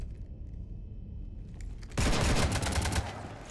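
Sudden burst of rapid automatic gunfire in the sci-fi video game Mass Effect 3, aimed at shooting up a ship, erupting loud and dense after a quiet ambient lull and rattling continuously to the end.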